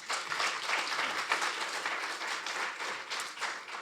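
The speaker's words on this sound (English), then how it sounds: "Could we please have a round of applause?" Audience applause at a Franco-Indian law and business forum, a steady wash of many hands clapping at moderate volume, fairly distant and even throughout, with no talking.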